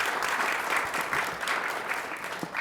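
A business community audience at a live morning event applauds steadily, a dense, sustained wash of clapping that holds at an even level for a couple of seconds with no talk over it.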